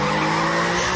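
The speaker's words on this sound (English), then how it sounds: "Stefan, Stop the car, Stefan." A car skidding with a sustained tire squeal in a tense TV drama scene on a bridge, loud and continuous throughout with engine noise underneath.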